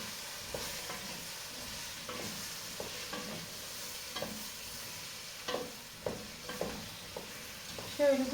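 Food sautéing in a pan, a soft steady sizzle under repeated scraping strokes of a spoon stirring at an uneven rhythm, close and fairly quiet, with a louder clatter near the end.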